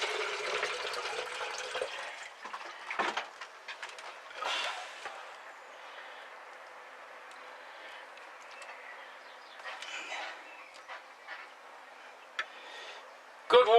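Water poured or sprinkled over seeds sown in a garden seed tray, a steady soft hiss of spray with a few brief splashes and taps, fairly faint and close.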